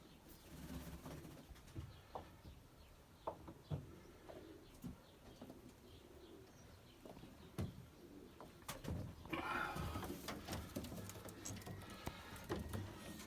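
Soft coos and rustling from breeding pairs of Ankara tumbler pigeons in a quiet enclosed loft, with scattered faint clicks and wing flutters, grows busier toward the end.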